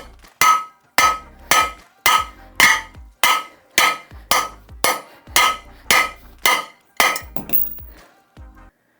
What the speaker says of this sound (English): you're gonna take your hammer, you're gonna knock your cylinder out of there